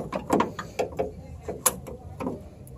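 Metal hinge parts clicking and clunking into place as a new door hinge and bottom assembly is fitted on a Ford F150 truck, several short, sharp taps and ratchet-like knocks at close range with brief pauses between them.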